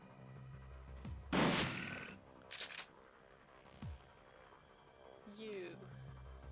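Gunfire in the video game Shadowrun, with a loud burst of shots followed by a couple of shorter bursts and a faint late crack, over game background sounds.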